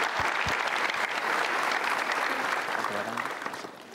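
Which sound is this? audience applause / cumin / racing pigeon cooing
audience applause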